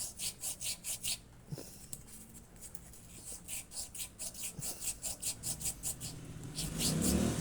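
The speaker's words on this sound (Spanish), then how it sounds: "Una lijita suavecita, le damos unas lijaditas." Fine sandpaper rubs the edges of a metal shaft from a Mytek fan, a series of short rhythmic back-and-forth rasping strokes, close and fairly quiet, with a brief pause midway and a louder scuff at the end.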